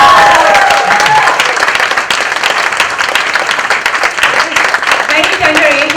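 An audience at a book launch gives a loud, sustained round of applause with some cheering, steady and dense throughout.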